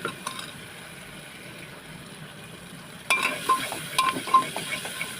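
Ground spices such as red chilli powder, turmeric, garam masala and coriander powder are stirred into oil with cooked tomatoes for a sprouted-legume dry curry; after a quiet start, a spoon scrapes the pan in several clear strokes over soft sizzling.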